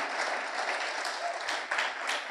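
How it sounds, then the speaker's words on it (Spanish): Church congregation applauding during a sermon, a strong continuous wash of clapping from many hands in a hall, steady and fairly close throughout. "denle un fuerte aplauso al Señor"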